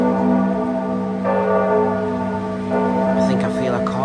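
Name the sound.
church bells of Santa Maria ringing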